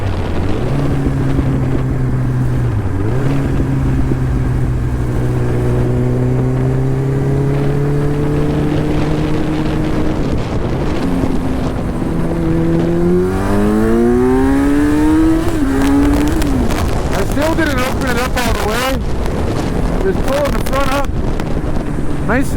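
A cold 2010 Kawasaki Z1000 motorcycle engine idles roughly, then revs up in rising and falling sweeps, growing louder and harsher toward the end, with wind buffeting the microphone throughout.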